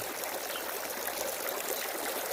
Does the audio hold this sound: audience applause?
no